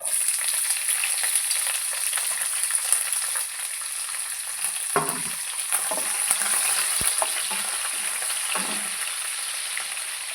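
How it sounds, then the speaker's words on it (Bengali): Onions dropped into hot oil with whole spices for butter chicken, dry red chilli, black cardamom, cumin, peppercorns and bay leaf, giving a loud continuous sizzle with a few stirring scrapes partway through. "এবার এতে আমি পেঁয়াজ দিয়ে দেবো।"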